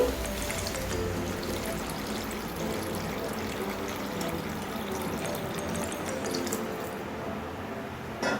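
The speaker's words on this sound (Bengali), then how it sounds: "এর মধ্যে আমি জল অ্যাড করে দিচ্ছি" Water pours steadily into a pan of mango chutney, a continuous soft splashing trickle heard alone at low volume for several seconds.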